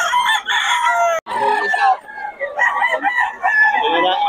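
Roosters crow and chickens cluck in a crowded run of calls at a Bocaue market, with overlapping crows close and loud and little pause between them.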